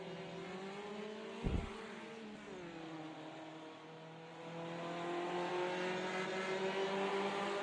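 A car engine in a sim racing video game drones steadily throughout, rising in pitch as it revs and accelerates, with a brief thud early on and no talking.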